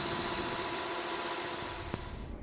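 A Honda Odyssey minivan engine idles while warming up, giving a steady mid-pitched hum and faint vibration that holds evenly throughout, with one small knock near the end.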